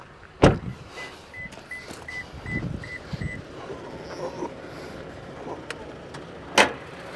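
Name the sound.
opening the hood of a 2023 Toyota Tacoma TRD Pro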